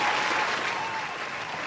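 Dense studio audience applause on a podcast, steady close clapping that holds loud for under two seconds and tapers slightly.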